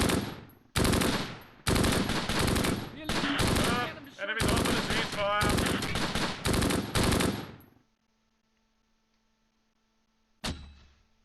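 Bursts of machine-gun and rifle fire from the WWII video game Close Combat Gateway to Caen, loud and repeated in long rattling volleys. They stop abruptly into near silence, and one last sharp report follows.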